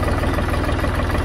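Ford 3000 tractor engine running with a bit of throttle, a loud close rhythmic diesel chug that stays steady through the short clip with no talk.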